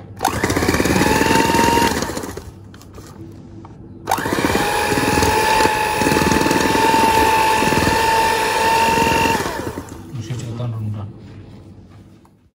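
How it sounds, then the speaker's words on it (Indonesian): An electric mixer runs at high speed beating butter, margarine and powdered sugar until pale and fluffy, a loud steady whirring drone that briefly drops, surges back for several seconds, then slows near the end. "butter, margarin sama gula halus kita mixer selama 10-15 menit sampai mengembang pucat ya"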